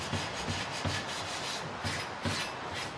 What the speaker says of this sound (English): just give it a good brushing